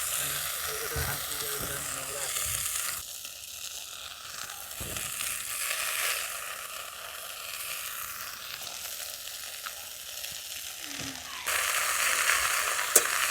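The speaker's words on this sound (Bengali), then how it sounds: "কড়াটা গরম হয়ে গেছে, আর এদিকে যে কেটে ধুয়ে শুকনো করে রেখেছি" Washed and dried coriander leaves hitting a hot wok, with a steady, moderate hiss of frying that swells near the end while someone talks over it.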